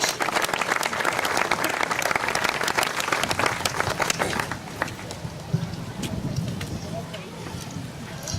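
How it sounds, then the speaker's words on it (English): An audience gives a WWII veteran a round of applause at a tribute event. Dense clapping fills the first half and then thins out while a voice talks over it. "Let's give him a big round of applause."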